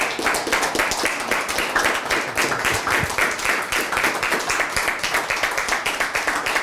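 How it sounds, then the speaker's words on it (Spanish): An audience at a formal academic investiture ceremony gives rhythmic, synchronized clapping, loud and close, with regular beats repeating evenly throughout. "le pido a todos ustedes que le demos un aplauso"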